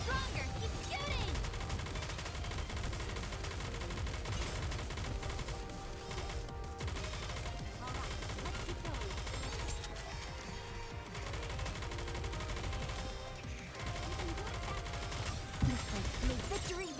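Sustained gunfire and dense battle effects from the video game Goddess of Victory: Nikke fill the whole stretch, steady and busy, layered over game music with brief dips.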